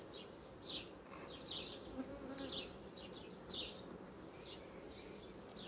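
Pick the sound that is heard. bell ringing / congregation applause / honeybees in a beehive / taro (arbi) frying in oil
honeybees in a beehive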